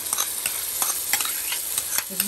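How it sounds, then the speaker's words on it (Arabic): A spoon scrapes and stirs onion, butter and a cream sauce in a hot pan, giving a run of close, repeated scraping strokes over a steady low sizzle, with no talking. "هسه بديت اخلط البصل والزبد والصلصه مالتي"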